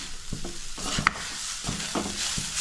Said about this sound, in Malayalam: അപ്പൊ അതവിടെ കിടന്ന് അമ്മ ഇങ്ങനെ വറുത്തെടുക്കട്ടെ